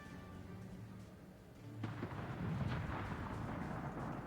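Low, rumbling booms of warship shells fired blind in a naval video game, a steady muffled roar that swells into a heavier, denser barrage midway, distant and fairly faint with no talk.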